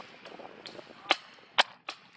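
Paintball marker firing paintballs in a wooded field, with three sharp cracking shots spaced about half a second apart, faint background voices between them.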